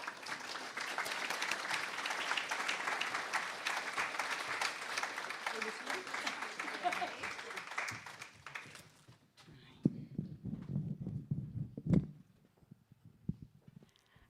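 Audience applause welcoming guest speaker Claire Alexander at the Youth Connect South West Young People's Awards 2025: a full, steady round of clapping for about nine seconds that tapers off into a few scattered claps and room noise.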